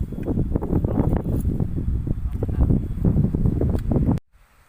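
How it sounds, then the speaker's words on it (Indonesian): Wind blows steadily through pine and mahogany trees on a hillside, a dense continuous rush with rustling leaves and buffeting against the microphone, then cutting off abruptly near the end. "suara angin yang menerpa ya, yang meniup dedaunan pohon pinus dan pohon mahoni"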